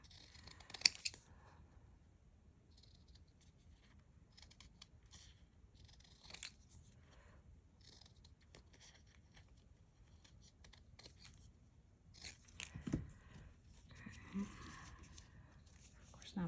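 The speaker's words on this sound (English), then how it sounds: "Maybe I'll just cut the bits of the sticker I want." Scissors snip through a sticker in a quiet room, faint close cuts and small rustles scattered across the stretch with soft paper handling between them.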